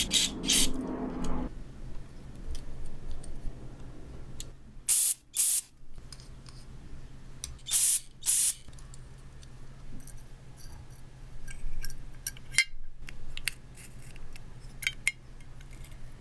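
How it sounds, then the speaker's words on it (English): Short hissing bursts of carb cleaner spray shoot into the idle passage of a 1971 Honda CT90 carburetor, several loud close blasts separated by quieter handling clinks and pauses. "Feels a little clogged when I throw the carb cleaner down it."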